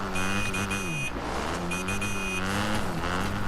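A motorbike engine in the Fortnite video game runs with a steady droning tone alongside bright electronic game tones that start and stop, loud and continuous.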